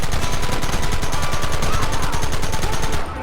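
Rapid gunfire in the video game Red Dead Redemption during a shootout, a loud, continuous hail of close shots and overlapping bursts that fills the whole stretch before cutting off abruptly at the end.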